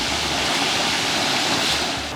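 Steady roar of rushing falling water at the Etcha cascade in Iwassi, a broad continuous wash of noise, loud and close with no voices.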